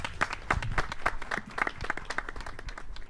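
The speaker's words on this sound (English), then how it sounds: "Applause for Manfred." Short round of audience applause for a speaker at a research symposium, a modest group clapping in quick uneven rhythm, fairly close and even in loudness.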